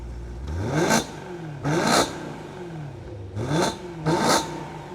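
A manual BMW M3 engine revs four times in short bursts, each rising and falling, with a muffled, subdued tone between revs while its exhaust valve is closed.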